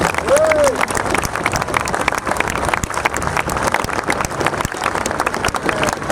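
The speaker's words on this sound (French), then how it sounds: "Allez, applaudissez ces 4 motards qui m'ont montré la route." A festival crowd at the Brescoudos motorcycle gathering applauds four motorcyclists, with sustained dense clapping and some cheering filling the whole stretch while a voice briefly rises above it.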